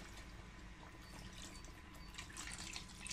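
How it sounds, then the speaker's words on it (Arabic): Water pours steadily into a cooking pot of frik soup with onion, spices and parsley, a continuous quiet splashing and trickling stream heard alone throughout. "ندير شوية تاع ماء"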